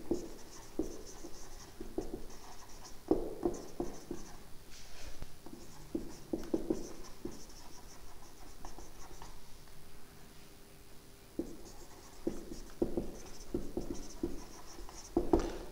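Chalk or marker strokes scratch across a classroom board during an English grammar lesson, coming in short scraping bursts with pauses between them, fairly close and moderately loud.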